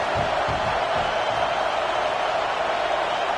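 Roaring stadium crowd noise from a college football video game, Nebraska versus UCLA, forms a loud, steady, dense wash throughout without breaks.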